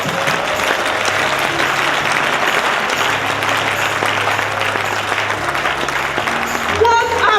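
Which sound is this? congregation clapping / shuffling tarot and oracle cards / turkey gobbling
congregation clapping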